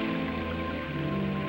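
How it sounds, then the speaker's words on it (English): Steady rain pours down during a rain-exposure test of computer equipment, an even, broadband hiss with a low mechanical hum beneath it, continuous and fairly loud throughout. "And rain tests."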